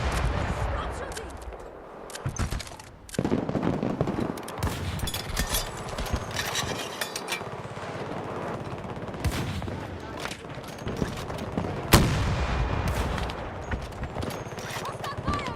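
Battlefield 2042 firefight: bursts of automatic rifle fire and sharp single shots crack out close and at a distance in an uneven rhythm, mixed with game effects and shouted voices.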